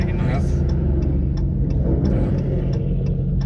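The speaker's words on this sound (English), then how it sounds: "there comes a Mustang making noise" A Ford Mustang engine rumbles nearby in a steady, loud low drone for a few seconds, heard from inside another car with a faint rhythmic ticking over it.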